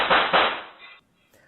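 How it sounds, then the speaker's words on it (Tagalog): A rapid burst of gunshots at a street scene, two or three loud sharp cracks close together that end abruptly, with no voices. "umalingaw-ngaw ang sunod-sunod na putok ng baril"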